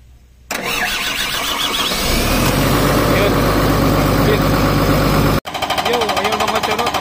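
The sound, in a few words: Cat C6.4 diesel engine starting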